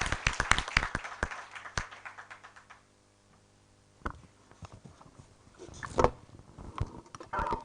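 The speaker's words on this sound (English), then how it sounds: "Please, a round of applause for my panelist members" Scattered claps from a research forum audience after a panel discussion, a burst of sharp hand claps at first that thins to sparse individual claps, then picks up again with some rustling.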